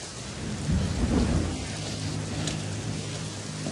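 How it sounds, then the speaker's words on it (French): Steady rain pours down on a volcano with a low rumble of thunder underneath, a continuous dense hiss throughout. "Mais il pleut."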